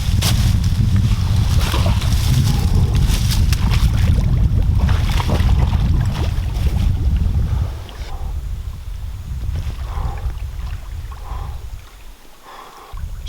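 Paddling a boat across the Amazon River: steady broadband wash of water and wind buffeting the microphone, with a loud rushing first half that eases after about eight seconds into quieter splashes.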